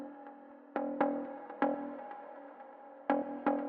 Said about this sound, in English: And the second one plays a lower octave,